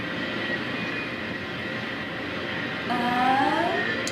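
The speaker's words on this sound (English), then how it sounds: "It's all been freight trains." Freight train rolling along a railroad line, a steady low rumble of passing cars that swells slightly toward the end, where a tonal whine rises, heard alone at moderate distance.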